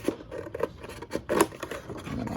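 Scissors snip out a template for a wooden stand for an Akai MPC One: a few close, crisp cuts with short pauses between them.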